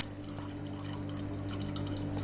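Engine oil trickles and drips steadily close by while draining from a Peugeot 508 1.6 HDi DV6C, a soft continuous pour over a low mechanical hum.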